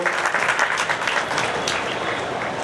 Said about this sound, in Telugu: ఒకసారి గట్టిగా చప్పట్లు కొట్టి మీ ఆమోదం తెలపాలని చెప్పి కోరుకుంటా ఉన్నాను